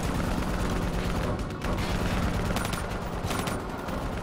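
Gunfire aimed at a VTOL aircraft in Call of Duty: Black Ops 3 on Realistic difficulty, heard as dense, continuous rattling bursts of automatic weapons layered with booming battle noise, loud and unbroken.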